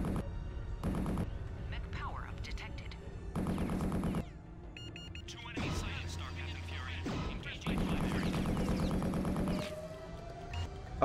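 Machine guns fire in the MechWarrior 3 video game in several loud, rapid rattling bursts separated by short pauses, mixed with other mechanical game sounds.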